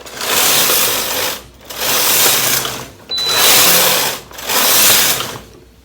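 A Brother KH930/KH940 knitting machine carriage makes four loud, close rasping passes for single-bed jacquard neckline rows, each about a second long and separated by short pauses.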